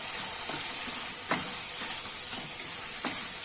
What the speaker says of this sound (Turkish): Şimdi suyunu biraz çektirdim ve kavurma işlemine geçiyorum.